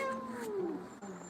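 A cat gives one drawn-out, falling meow that sounds like a complaint while being groomed, close by and fairly loud.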